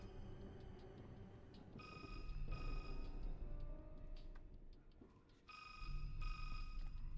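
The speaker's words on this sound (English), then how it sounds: "that triangle is ringing" A triangle in the video game Resident Evil 6 rings in two bursts of bright, sustained metallic tone, fairly faint against a low rumbling game ambience.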